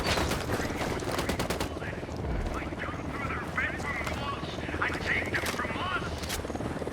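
Rapid bursts of automatic gunfire and shots from a Ghost Recon Wildlands firefight crackle loudly and continuously, mixed with a low helicopter-like drone and game noise.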